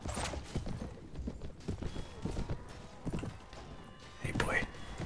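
Horse hooves clip-clopping in the video game Floris, a run of irregular thudding hoof steps, fairly quiet, mixed with a person talking over them.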